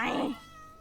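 A cat in the Minecraft video game gives a single short meow, clear and close, followed by quiet.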